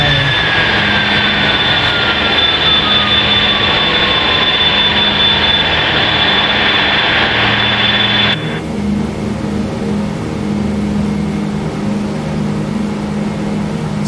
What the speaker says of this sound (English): jet is flying by me